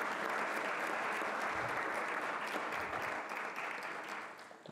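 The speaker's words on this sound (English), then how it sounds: "Let's give everybody a round of applause again for their participation." An audience claps for the forum participants at a Jefferson Educational Society public forum on casual marijuana use, a full, even burst of applause that holds steady and then tapers off near the close.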